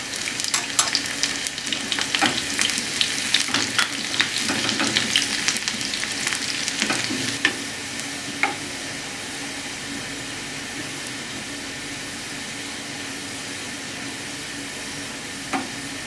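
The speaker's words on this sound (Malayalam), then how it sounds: "കടുക് പൊട്ടിക്കഴിയുമ്പോൾ അതിലേക്ക് ഒരു 2 കൊച്ചുള്ളി അരിഞ്ഞത് ചേർത്ത് കൊടുക്കാം." Chopped small shallots hit hot oil after mustard seeds pop, a loud close sizzle for Onattukara asthram curry that settles into a softer, steady hiss.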